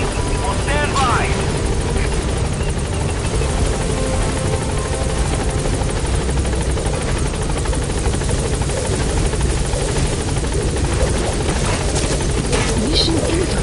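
A helicopter waits at a landing zone in a combat video game, its rotor drone steady and loud for the whole stretch, with radio-style voices and game sounds layered over it.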